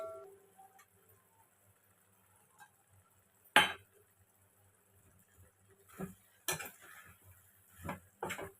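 Crispy chilli prawns tossed with spring onion in a pan over a high flame, giving sparse clinks and scraping knocks of a utensil against the pan, one sharp clatter early and several more later, with faint sizzling between them.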